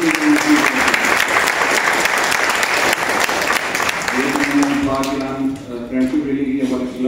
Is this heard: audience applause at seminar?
yes